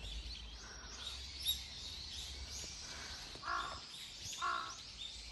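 A crow caws a few times at a distance, the calls short and harsh against steady outdoor background noise.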